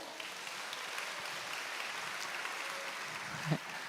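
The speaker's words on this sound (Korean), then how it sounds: "다시 한번 큰 박수로" A church congregation applauds after a young speaker's talk, steady soft clapping heard from a distance at low level, with a brief thump near the end.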